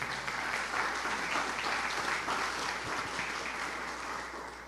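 A church congregation applauds together in a steady, dense wash of clapping that stays loud and continuous, fading only slightly toward the end, with no voices standing out.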